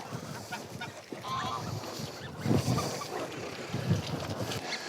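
Greylag and white-fronted geese honk in scattered, overlapping calls at moderate distance during a waterfowl hunt, with wind noise in the background.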